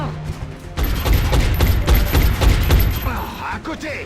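Rapid reaction-fire gunshots in XCOM: Enemy Within, a dense burst of loud cracks and booms over a low rumble, continuing for several seconds and tapering off toward the end.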